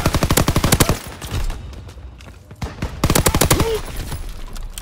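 Strafing-run gunfire in the World War II shooter Call of Duty WWII: loud, rapid machine-gun bursts in two volleys separated by a quieter stretch of distant firing.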